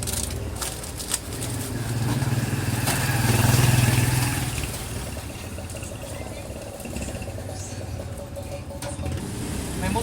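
A motorcycle engine hums at moderate distance, swelling briefly as it passes and then fading into a steady low drone, with faint voices and street clatter around it.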